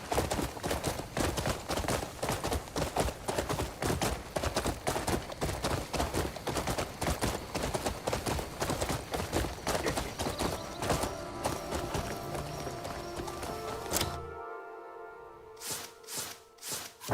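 Rapid, continuous hoofbeats of a horse galloping in a video game pound loudly for about fourteen seconds, then stop abruptly, followed by a few scattered sounds.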